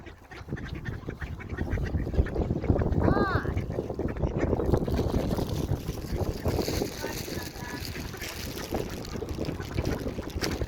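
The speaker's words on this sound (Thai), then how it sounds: "มาให้อาหารเป็ดจ้ะ" Ducks quack now and then while being fed, several short calls rising over blustery wind noise and nearby talking voices, with the quacks fairly faint.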